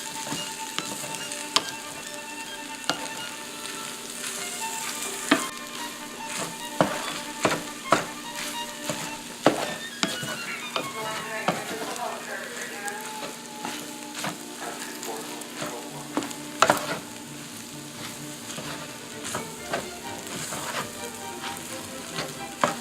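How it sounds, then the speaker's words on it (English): An Asian stir fry with soy sauce sizzling in a pan, a continuous loud crackle broken by frequent sharp clacks of stirring and tossing, close up with no talk. "tasty, Asian-y, delicious-y, stir-fried dish."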